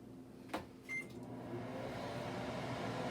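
A microwave oven runs with a steady low hum after a click and a brief beep, heating chocolate and butter in a 15-second interval, with no one talking.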